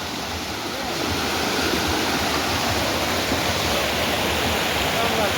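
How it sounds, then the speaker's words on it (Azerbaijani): A mountain river in Qax rushes loudly and close, a constant broadband roar of fast-flowing water that swells after the first second and stays steady. "Allah necə çay axır."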